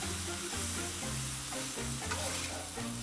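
Steady sizzling of chicken frying on a hot Blackstone griddle, with scraping stirs at intervals and a low rhythmic pattern underneath, close and fairly loud.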